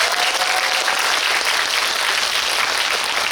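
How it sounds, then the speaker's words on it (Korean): Audience applause for an actor at a film screening and talk event in a cinema hall, dense steady clapping throughout, loud and close, with no speech over it. "고생하신 우리 정세 배우님께 박수 한번 부탁드립니다."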